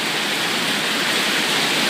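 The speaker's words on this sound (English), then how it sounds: "Look at it raining." Heavy rain pouring down outdoors during a storm, a dense, steady hiss of water that stays loud and unbroken throughout with no voices.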